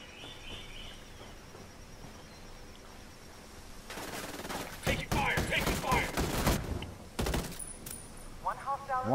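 Bursts of gunfire in the video game Ghost War, a sharp burst around four seconds then dense clustered shots mid-clip, heard over a faint ambient game backdrop with voice chat talk.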